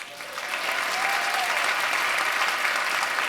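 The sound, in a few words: applause for a couple at a retirement celebration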